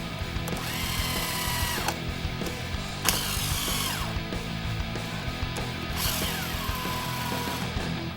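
An impact wrench works on clutch bolts during a clutch change: repeated rattling hammering bursts, fairly close and steady, with short pauses between runs.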